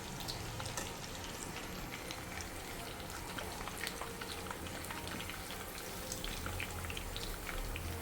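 Chicken pakoda pieces frying in hot oil, a steady dense sizzle and crackle with scattered pops, continuous and close throughout with no talk.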